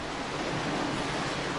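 Sea waves washing over the rocky Black Sea shore in winter, a steady broadband rush of surf, close and continuous with no distinct breaks.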